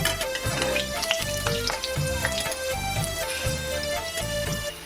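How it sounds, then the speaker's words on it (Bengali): Potatoes fry in hot oil with salt, a continuous crackling sizzle throughout, overlaid by a steady rhythmic thumping background pattern. "তেল গরম হয়ে গেলে আলুটা দিয়ে দেবো তো স্বাদ মতো লবণ দিয়ে ভালো করে ভেজে নেব আলুটাকে প্রথম"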